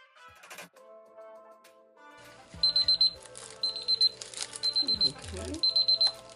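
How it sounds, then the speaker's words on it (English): A kitchen timer's alarm goes off after four minutes of stirring a resin mix for a crushed-velvet serving tray project, sounding in four quick bursts of sharp repeated beeps, close and clear over low background noise. "Stop our timer."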